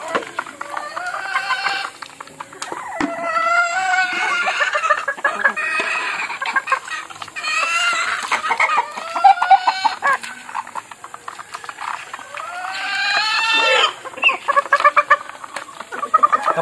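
Backyard chickens clucking right after being fed, several birds close by making repeated bursts of clucks and squawks with brief pauses between them.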